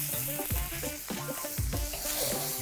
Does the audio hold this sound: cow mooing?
no